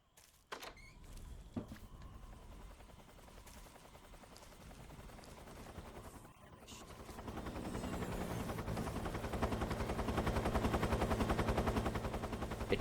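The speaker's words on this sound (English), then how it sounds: "It sounds like that helicopter's just sticking around for now" Helicopter hovering in the stealth video game Metal Gear Solid 3, a steady rotor drone that builds and grows louder midway and holds as a dense, sustained rumble, with a few sharp clicks early on.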